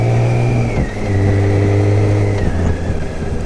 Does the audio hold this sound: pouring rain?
no